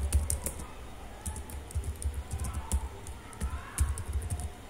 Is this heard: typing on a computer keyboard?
yes